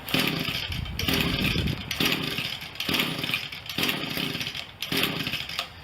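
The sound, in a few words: Echo small two-stroke engine starting with choke on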